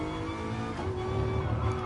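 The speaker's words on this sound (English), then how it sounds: "Feeds the power on again." A race car engine in a racing game's pro-am touring car series, pulling hard out of a hairpin as power comes back on, a loud, buzzing drone that rises slightly toward the end, with no voices.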